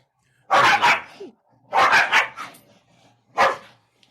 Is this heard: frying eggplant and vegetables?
no